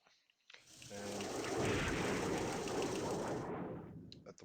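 US forces bombard airfields in Operational Art of War, Cuba 1962, heard as a sustained roar of rumbling blasts and rattling fire. It swells in, holds steady for about three seconds, then cuts off.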